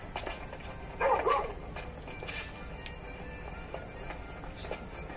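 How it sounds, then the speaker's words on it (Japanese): A dog barks once in Final Fantasy XV, a short bark near the one-second mark over a low, steady game ambience, followed by faint, scattered clinks. "ワンワンってことはここにデイブがいるんじゃないか"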